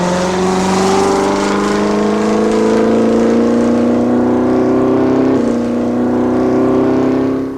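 1947 Buick on a speed run across the dry lake bed at El Mirage, a loud sustained engine roar at high revs with a rising pitch and a brief shift midway, close and continuous.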